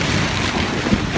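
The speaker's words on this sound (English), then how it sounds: "35-40 knots of wind here, although the tarps are flapping around quite a lot." Strong wind of 35 to 40 knots buffets tarps around a boat under rebuild, a loud continuous rush of wind noise with flapping, no voices.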